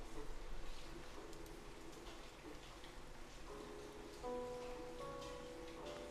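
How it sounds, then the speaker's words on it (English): Steady rain falls throughout, a soft continuous patter under a faint background hum, with a few quiet tonal sounds drifting in near the end and no one speaking. "thank you for this beautiful rain"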